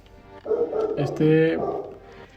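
A pet dog barks and yips in a home setting, several short, close barks clustered in the middle of the clip, standing out over quiet room noise.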